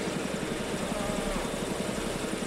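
Military helicopter rotor in ARMA 3, a steady rapid thudding beat with a broad engine roar, close and loud throughout with no pause.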